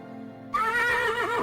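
A horse neighs in the 1994 video game Little Big Adventure, giving one loud, close, quavering whinny that starts abruptly after a low hum and carries on alone.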